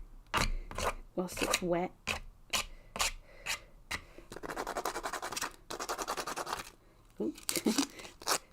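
Dry pencil rasped across a watercolour painting of poppies, giving bursts of scratchy rubbing strokes with a longer steady scrape in the middle, close by, with a person talking between the strokes.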